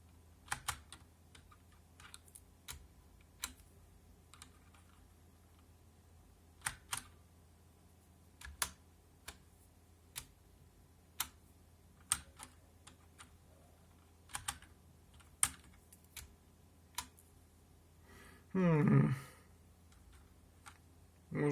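Typing on a HyperX Alloy FPS mechanical keyboard with Cherry MX Brown switches, close and crisp, with sparse, irregular individual keystrokes spread over about twenty seconds and a brief louder rustle near the end.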